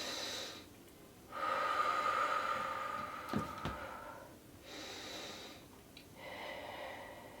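Deep breaths while hanging from a bar in a shoulder stretch: slow, close, audible breathing in rising and falling pulls with a brief knock partway through, no talk.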